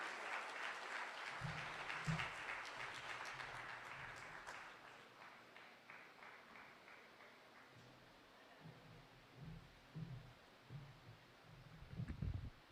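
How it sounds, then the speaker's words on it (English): Tech summit audience in Haiti applauding after a speech, a fairly distant wash of clapping that gradually fades, with voices and low murmurs rising underneath. "All right, another round of applause"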